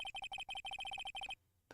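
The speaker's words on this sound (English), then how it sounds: "I know that song your phone plays when it rings." A cellphone ringtone playing the Steel Samurai theme in the Ace Attorney video game sounds as a rapid, bright electronic chirping melody in quick repeated pulses, then stops abruptly, leaving near silence.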